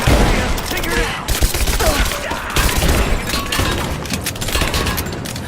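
Dense gunfire in the video game Rise of the Tomb Raider, rapid overlapping shots and bursts in a geothermal valley battle, loud and continuous throughout, with faint shouting mixed in.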